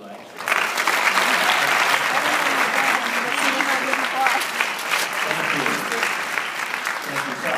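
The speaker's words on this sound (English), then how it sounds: "You can applaud if you like." Audience applause at a talk, a steady crowd of hands clapping that starts suddenly and continues evenly for several seconds at moderate volume, with a voice faintly underneath.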